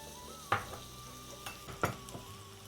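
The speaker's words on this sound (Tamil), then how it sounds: "எண்ணெய் சூடாயினத்துக்கு பிற்பாடு தேவையான அளவு வெட்டி வச்சிருக்கிற வெங்காயத்தை இதுக்க போடுறோம்" Chopped onions hit hot oil in a pan, giving a few short sizzling bursts and stirring scrapes spaced over a couple of seconds against a quiet background hum.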